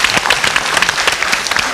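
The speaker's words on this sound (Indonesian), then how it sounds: "Kita beri tepuk tangan dulu." A live audience at a disability awareness event in Indonesia breaks into dense, sustained applause, many hands clapping steadily throughout with no pause.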